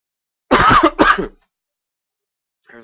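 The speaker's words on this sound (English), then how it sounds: "here's my cough." Two quick, harsh coughs close to the mic, back to back, followed by silence and a brief faint rustle at the end.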